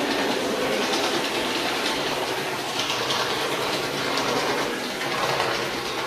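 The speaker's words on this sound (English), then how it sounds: "And let's see now with the CP Rail 1553 switcher." A CP Rail 1553 switcher model train running on a layout, producing a steady rumbling, rattling roll of wheels on track that continues evenly at close range, with no talking.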